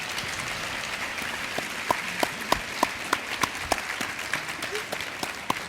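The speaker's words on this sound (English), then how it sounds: "So let's give Dr. Shaywitz another round of applause." Conference attendees give a speaker a round of applause, with a continuous wash of clapping and a few sharper nearby claps standing out.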